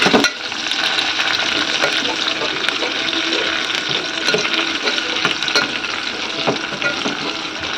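Onion, dried red chili and a little raw garlic fry in hot oil, a loud, dense, continuous sizzle up close, broken by small crackles and stirring scrapes, with no talking.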